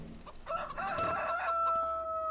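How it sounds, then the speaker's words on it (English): Rooster in Farming Simulator 25 on a farm, crowing a single long, tapering cock-a-doodle-doo that fades into a sustained held note, set against constant background ambience with no speech. "That would be the rooster."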